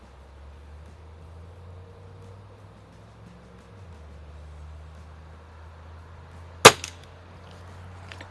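A single sharp shot from a Cometa 300 .177 break barrel air rifle with a moderator fired at an outdoor range, one loud crack standing out over a low steady background hum.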